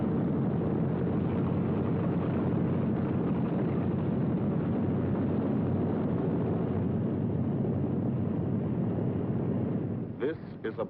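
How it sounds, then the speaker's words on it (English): Roaring engines of WWII bomber aircraft droning low and steady over the English countryside, a thick continuous rumble that holds loud for the whole stretch before easing slightly at the end. "Only the roaring engine sound of the bombers pounding through the quiet English countryside."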